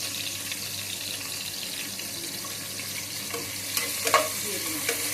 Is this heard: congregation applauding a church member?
no